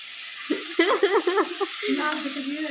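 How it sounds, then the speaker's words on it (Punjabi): Soft paneer is stirred gently in a sizzling kadai, with a few light scraping strokes over a hot frying hiss, close and fairly quiet, with brief voice-like sounds in between. "ਹੁਣ ਇਹਨੂੰ ਹੌਲੀ ਹੌਲੀ ਹਿਲਾਣਾ ਹੈ ਕਿਉਂਕਿ ਇਹ ਬਹੁਤ ਸੌਫਟ ਪਨੀਰ ਹੈ ਦੇ ਲੜ ਨਾ ਜਾਏ ਕੜਾਈ ਨਾਲ"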